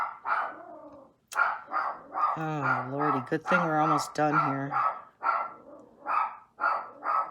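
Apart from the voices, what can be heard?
dog barking at someone walking past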